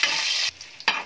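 Mustard seeds and whole dried red chillies fry in hot oil for a kadhi tadka, giving a loud crackling sizzle that is cut off briefly, then flares up again, with no talking.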